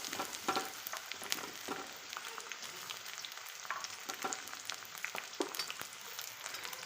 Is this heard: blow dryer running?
no